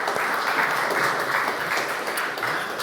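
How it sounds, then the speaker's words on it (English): Audience applause at a talk, a steady dense wash of clapping that holds evenly for about three seconds with no voices over it. "let's applaud Nikita and Lisa and Rene"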